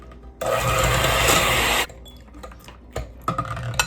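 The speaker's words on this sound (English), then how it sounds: "So let's combine the butter and the lemon juice and the extract just on low speed." A hand mixer on low speed beats butter with lemon juice and extract for a lemon loaf, a loud, steady whirring burst of about a second and a half, followed by softer scraping and knocking.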